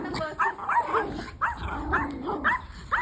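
A dog barks several times in short bursts at moderate distance outdoors in a village setting, with people talking softly in between.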